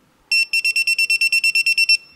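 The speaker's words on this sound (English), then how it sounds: "a long beep will be heard, and the device will start in the audio mode" An RS PinPointer metal detector switches on into audio mode: a loud, clear electronic beep, then a quick, even run of about a dozen pulsed beeps, with nothing else heard.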